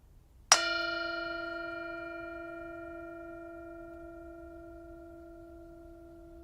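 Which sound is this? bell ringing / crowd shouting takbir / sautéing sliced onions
bell ringing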